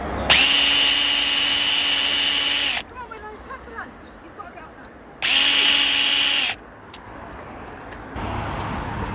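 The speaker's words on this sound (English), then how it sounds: "So I'm just about to put another pilot hole in for the self-tapper." A cordless drill boring a 2mm pilot hole for a self-tapping screw while fitting an LED awning rail to a VW T5.1 van, two loud steady whining bursts separated by a short pause, with faint background noise.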